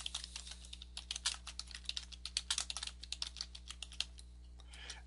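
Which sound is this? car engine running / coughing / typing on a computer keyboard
typing on a computer keyboard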